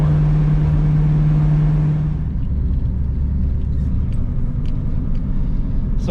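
A 1971 Ford Torino V8 fitted with a Gear Vendors overdrive, heard from inside as a loud, steady engine rumble that climbs briefly with a held tone, then settles into a continuous low drone while cruising in second gear.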